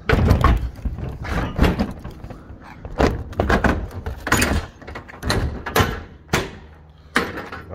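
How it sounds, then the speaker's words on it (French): A heavy truck's cab door swings shut during a CE licence test-yard routine, giving several loud, sharp thuds and knocks in quick succession with busy rattling between them, close to the microphone. "On referme la première porte."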